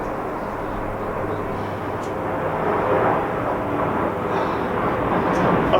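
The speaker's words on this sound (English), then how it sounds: "Sorry for the airplane interference." An airplane passing overhead during an outdoor workout session, a broad continuous roar that swells slightly and stays loud throughout.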